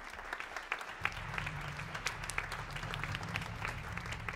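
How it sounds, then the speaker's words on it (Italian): Audience applause at a music event in Valpelline, sustained clapping filling the room from start to finish over a low background hum. "Accogliamo con un bel applauso Rachele Bosco, Alice Gallo, Ginevra Raffaell"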